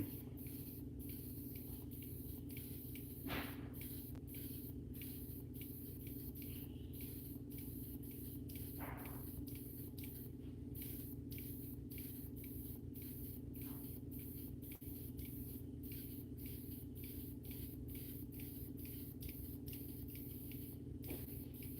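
Spraying sealant over a painted Superman portrait: faint, rhythmic short hissing bursts repeated steadily against a quiet background, with no voices.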